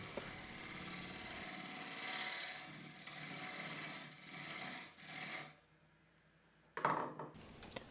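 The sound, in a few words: Forstner bit cleaning up wood for a salt grinder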